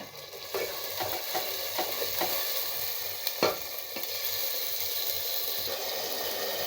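Ginger garlic paste sautéing in a pan: a soft, steady sizzle with occasional scrapes and stirs of a spoon.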